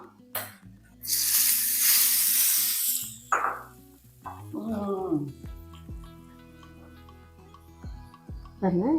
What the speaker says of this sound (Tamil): இது ஒரு தாளிப்பு கொடுத்துடலாம்